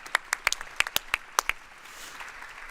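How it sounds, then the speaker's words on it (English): A handful of people clap in scattered, uneven bursts during a lunchbreak talk event, a dozen or so distinct claps over about a second and a half before fading into room noise. "Can we get a round of applause for the people asking the question, whatever the question is?"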